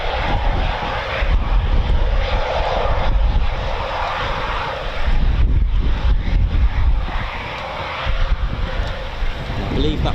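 Two Eurofighter Typhoon jets fly a practice display at RAF Coningsby, a loud, broad roaring rumble that swells and recedes with wind buffeting and talk over it.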